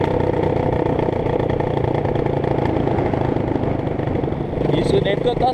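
A Honda CRF 230 motorcycle engine with only an exhaust pipe runs loudly and steadily nearby, a continuous rumbling drone throughout.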